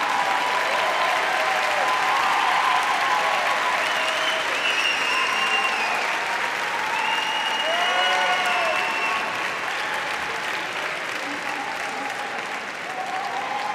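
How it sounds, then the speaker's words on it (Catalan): Sustained applause from a large audience at a graduation ceremony fills the hall, dense and even for over ten seconds, with faint voices and music-like tones woven underneath. "Moltes gràcies i seguim amb l'aplaudiment."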